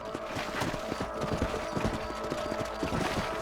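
Horse hooves clip-clop in a rapid, steady rhythm in the video game Red Dead Redemption, running close and loud throughout with no talk over them.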